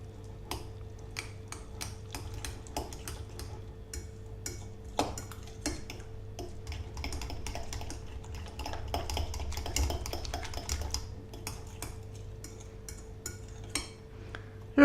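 An omelette mixture of eggs, sour cream and cheese is stirred in a bowl, making rapid, irregular clinks and taps of a utensil against the bowl, close and steady throughout, with no talking.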